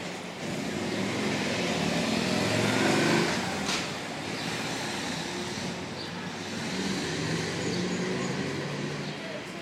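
Street traffic resuming after a presidential motorcade has blocked the road: a steady wash of passing cars and engines, fairly close and continuous, with a louder swell near the start.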